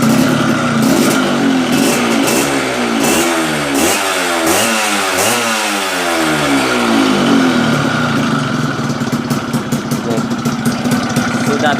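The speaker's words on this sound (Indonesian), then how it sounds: "Sudah bisa lamsam walaupun bunyi mesinnya kayak gitu, karena membran sudah bagus." A Yamaha F1ZR motorcycle with a freshly set reed valve runs up close and loud. Its engine swoops through several revs with sweeping pitch rises and falls, then settles into a rough, rattly idle with sharp popping pulses near the end.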